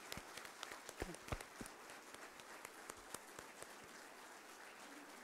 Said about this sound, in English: I think he deserves a round of applause one more time